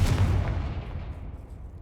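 Confringo blasting spell exploding in Hogwarts Legacy, a loud booming blast at the start that rumbles and decays over about two seconds, with no voices.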